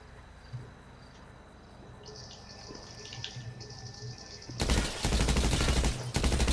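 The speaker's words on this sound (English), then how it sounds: "Shots fired. Shots fired. Shots fired." A burst of loud rapid gunfire erupts near the end of a GTA 5 roleplay scene, following several seconds of quieter in-game ambience with faint chirping.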